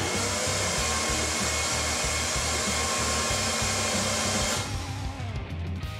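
Steady loud rush of compressed air blown through an old Ford 300 inline six engine that sat for 20 years, a continuous close hiss with a low pulsing undertone that eases off near the end.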